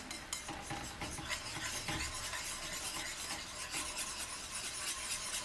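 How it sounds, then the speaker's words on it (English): Meat sauce with teriyaki sauce and a little flour, thickening in a pan, is stirred and spread with scraping utensil sounds over a steady close sizzle, with no talking. "Spread all the bits on the sides of the pan."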